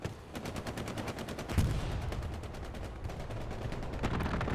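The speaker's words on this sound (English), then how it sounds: "Strafing run comes on through." A strafing run in the World War II shooter game Hell Let Loose, heard as continuous rapid machine-gun fire that stays loud and dense for the whole stretch, with a heavier burst partway through.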